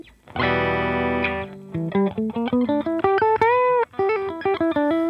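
Overdriven electric guitar played with a thick 4.2 mm pick rings out a held chord before launching into a fast string of picked notes, loud and upfront, no voices.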